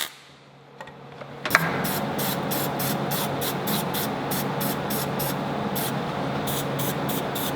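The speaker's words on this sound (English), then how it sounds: "Now we're going to weld this guy down the front and back sides and put a very small bead on the bottom on each side of this threads." Welding a bead on a steel trackbar bracket from a JKS trackbar reinforcement kit: a steady, loud crackling hiss starts after about a second and a half and runs to the end with a regular pulsing texture.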